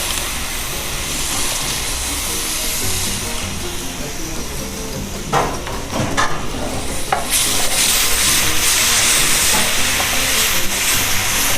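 Tomato paste is stirred in a hot pan for a chicken escalope, giving a dense hissing sizzle with scraping strokes midway, growing louder and steamier toward the end.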